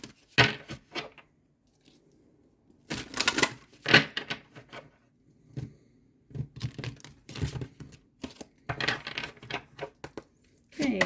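Tarot cards are drawn and handled from a deck, giving crisp papery flicks and shuffling snaps in scattered bursts up close, separated by quiet gaps.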